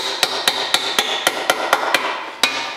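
A hammer taps a horseshoe clip into a brake line clamp on the frame of a 1982 Jeep CJ7, about ten sharp metallic taps in a quick, fairly even rhythm, close and loud.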